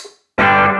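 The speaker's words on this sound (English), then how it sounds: "Now turn the reverb on." Electric guitar played through a Keeley Caverns V2 delay/reverb pedal with the reverb engaged: after a short silence a loud sustained chord rings out, held steadily with a lush, washed tail.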